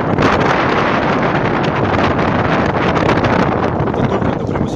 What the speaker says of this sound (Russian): Но сильный ветер задувает.